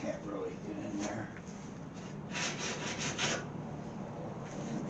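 A small brass brush with a square wooden handle scrubs the trunk area of a 1929 Chrysler, giving continuous close scratchy rubbing with a brisk run of rapid strokes midway.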